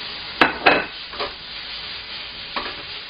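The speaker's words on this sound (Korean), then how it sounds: "재료들을 이렇게 전체적으로 한번 볶으시고요" Udon noodles, seafood and other ingredients being stir-fried in a pan, with a few distinct scraping stirs and a later one over a faint sizzle.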